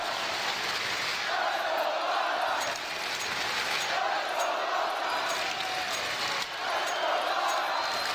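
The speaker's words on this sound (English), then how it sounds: "Listen to this crowd!" A large arena crowd at a CS:GO esports major roars continuously, a dense, distant-sounding wall of cheering with swelling chants and a faint voice over it.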